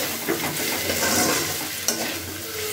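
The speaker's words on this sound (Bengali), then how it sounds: "এবার আমি ভেজে রাখা সুজিটাকে এর মধ্যে আস্তে আস্তে দিয়ে দিলাম। দিয়ে খুব ভালো করে একটু নাড়াচাড়া করে নিচ্ছি এর সাথে।" Roasted semolina is stirred into fried vegetables in a pan, giving a close, steady sizzle with scraping strokes of a spoon against the metal. A sharper clink cuts in near the end. No voices.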